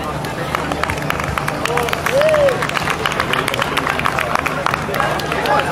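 Audience applause at an Anatolian cultural days event in Copenhagen: a dense, steady clatter of clapping from a crowd filling the hall, with a voice and crowd murmur beneath it.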